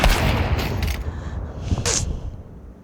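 Gunfire in a shooting video game rings out in several sharp, loud bursts over a steady background, with no talk.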